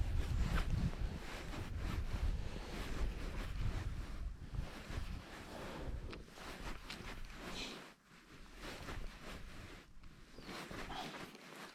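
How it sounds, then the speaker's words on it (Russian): Gusting wind buffets the microphone outdoors while fishing from a boat on the Moksha River in Mordovia in November, rising and falling in rough bursts, with faint water sounds in the background. "Не, ветер есть небольшой."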